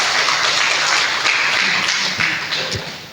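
Church congregation at a Sunday morning service applauding, a dense wash of many clapping hands close by that tapers off toward the end, with a few sharp individual claps standing out.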